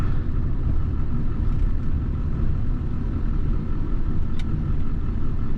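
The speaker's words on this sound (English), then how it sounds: "I'm giving it all it's got in about a second or third gear, and it just does not want to go" A 1984 Dodge D50 diesel turbo truck labors in second or third gear, putting out heavy smoke, giving a loud, steady, low rumbling drone with no change in pitch as it struggles to pull.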